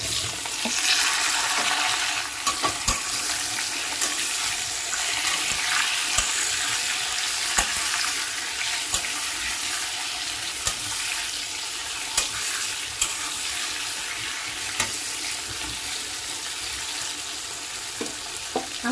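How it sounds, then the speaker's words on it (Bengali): Five hundred grams of cubed pumpkin frying in hot oil, a continuous close sizzle broken by spatula stirring and scraping clicks, with no voices. "কুমড়োটা আমি এখন তেলে দিয়ে দিচ্ছি।"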